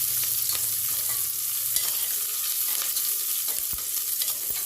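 Sliced onions with cumin fry in a pan for a Coimbatore coconut-milk kuska, giving a steady close hiss with scattered crackles and stirring clicks, no voices.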